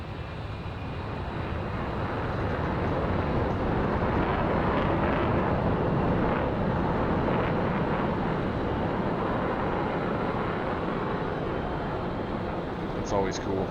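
Jet aircraft taking off in the DCS flight simulator: a steady, loud, broadband engine roar holds for the whole stretch with little change, and faint voice traces sit underneath.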